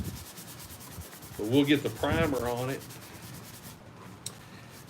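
Sandpaper rubs steadily across a small toy table in quick scratchy strokes at close range, while a voice briefly speaks over it in the middle.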